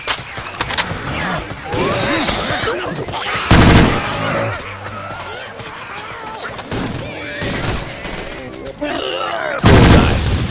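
Gunfire from the zombie shooter Left 4 Dead 2, a harbor level, comes as loud broadband bursts and volleys scattered through the scene, with voices talking between the shots.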